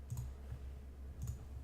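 Mouse clicks confirming an OK button in charting software, two faint, sharp clicks about a second apart over a low steady hum.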